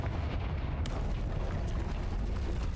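The Confringo blasting spell explodes in the video game Hogwarts Legacy as a dense, booming blast with a sharp crack just under a second in, followed by a sustained rumbling roar of debris.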